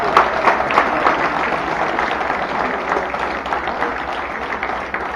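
A crowd at a parade of associations in Le Carbet applauds the town's majorettes, a dense, steady clapping that holds for several seconds.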